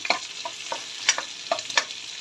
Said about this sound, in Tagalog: Oops, igigisa na tayo. Bawang, sibuyas